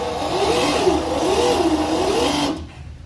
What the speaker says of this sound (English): as Wyatt hits the throttle blade, it will actually ramp up to the throttle position